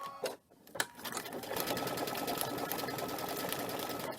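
A sewing machine with an open-toe foot stitches silk ribbon for appliqué. After a brief stop-start it settles into a loud, steady, rapid mechanical chatter close by, with no talk.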